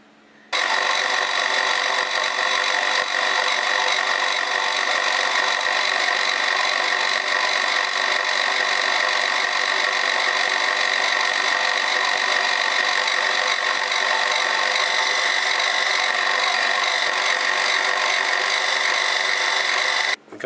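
A drill runs steadily for about twenty seconds, boring dowel holes in an aluminium drilling guide jig, a continuous bright whine with no pauses, close and loud, alone without talk.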